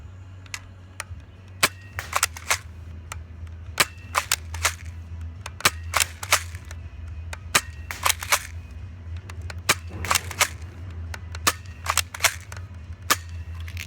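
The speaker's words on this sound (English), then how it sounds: "Oh, I fired a few shots." Pistol shots are fired at a video game shooting range, sharp cracks arriving irregularly, some single and some in quick pairs, over a low steady hum.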